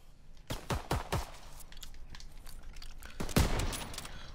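Kar 98K bolt-action sniper rifle fire in a video game: a quick cluster of sharp shots early on, then one heavier blast later, over a faint game ambience.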